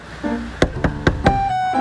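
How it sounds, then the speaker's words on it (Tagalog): Knocking on a house door: four sharp, evenly spaced raps in quick succession, close and loud, with a faint voice murmuring around them. "Sino ba naman yung katok ng katok?"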